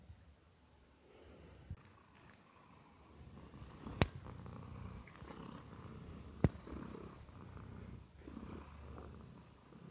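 A house cat purrs softly and steadily up close in a quiet room, a low continuous rumble broken by a few faint sniffs and small clicks, with no talking.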